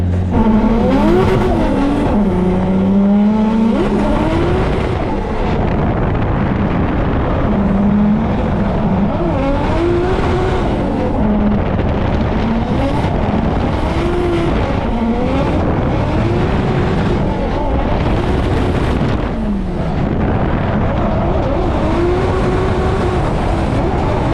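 Race cars battle head to head in a competitive Australian event, engines revving and shifting continuously with occasional tire squeal, loud and sustained throughout.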